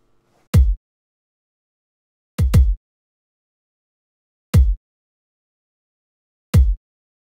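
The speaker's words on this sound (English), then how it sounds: "It's a proper recorded kick drum, or bass drum as some people call it" A studio-recorded kick drum sample hits on a beat grid: a single thump, a quick double hit, then two more single hits, each punchy and deep with a short decay and silence between.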